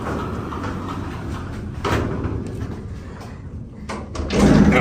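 A 1971 Montgomery hydraulic freight elevator door slides open, a steady rumbling scrape with a louder clunk near the end, close by and heard alone.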